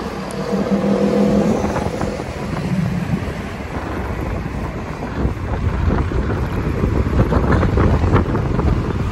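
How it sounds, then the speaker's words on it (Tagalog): Steady, heavy wind buffeting the microphone during a bicycle ride in a Philippine town's main square, a continuous low roar that rises and falls, with no talk. "ang lakas ng hangin"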